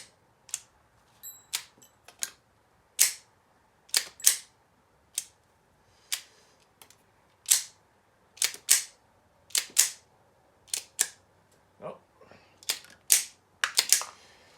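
FEG PA-63 pistol firing .380 rounds from a converted magazine, a series of sharp, fairly distant cracks in uneven bursts across the stretch, some shots in quick pairs, with no talk.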